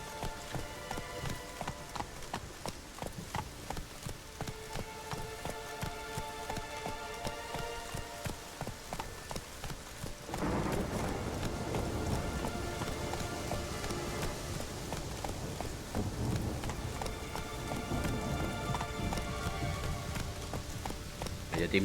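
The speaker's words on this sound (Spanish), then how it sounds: "Vaya temporada de lluvia" Steady rainfall in The Witcher 3 patters on surfaces, growing heavier and denser partway through, with faint background music and no voices.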